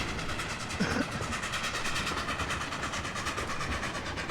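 Train arriving at a station in the Trainz 2019 railway simulator game, a continuous rumbling roll with rhythmic clickety-clack of wheels over rail joints, steady and fairly loud with no talking.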